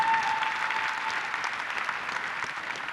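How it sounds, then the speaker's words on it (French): A theatre audience gives a comedian a steady, even round of applause in a live stand-up show, a dense wash of clapping with no talk over it. "faites beaucoup de bruit pour Moussa Petit Sergent"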